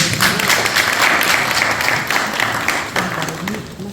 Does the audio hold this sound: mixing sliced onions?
no